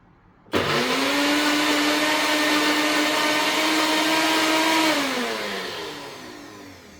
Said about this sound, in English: Now I'm going to blend real quickly.